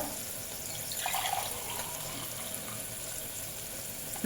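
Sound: water being poured into cooking pot

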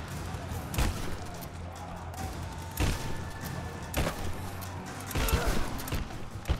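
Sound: shotgun being fired in Rise of the Tomb Raider video game

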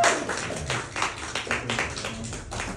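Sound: audience applause at poetry reading

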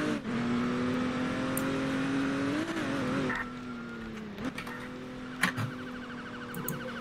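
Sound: police car driving in Roblox ER:LC video game

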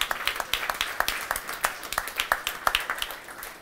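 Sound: audience applause at Boston beer event

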